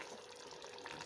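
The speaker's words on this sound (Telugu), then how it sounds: "చక్కగా ఉడుకుతుంది గ్రేవీ." Fish curry gravy simmering in a pot on the stove, a steady soft bubbling and sizzling hiss throughout, close and fairly quiet.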